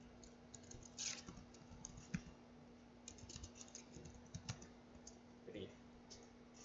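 Quiet keystrokes tapping out a command on a computer keyboard, an irregular run of soft clicks with a few louder taps, alongside a steady electrical hum.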